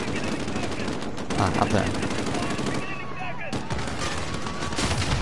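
Constant gunfire from Call of Duty Modern Warfare on PS4 rattles throughout in dense bursts of automatic fire, while a player speaks briefly over the shooting.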